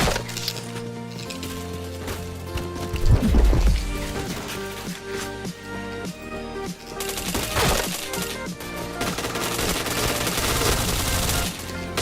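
Gunfire in a video game, with headshots landing in chains, comes as sharp bursts and rattling volleys, mixed into loud, dense background music.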